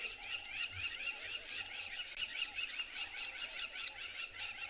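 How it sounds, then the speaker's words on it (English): Shrill, repeated bird calls overlapping in quick succession, a busy chorus of crowned lapwings at moderate distance against faint background noise, at sunrise on an African safari. "Crowned lapwings busy calling around us."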